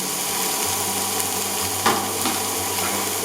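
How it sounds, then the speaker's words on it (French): Chopped onions sautéing in a pan to brown lightly for a beef and black mushroom stir-fry, a steady soft sizzle with a faint stirring scrape near the middle, no voices. "Que je vais faire bien revenir, hein, colorer légèrement. Voilà, les oignons un peu colorés."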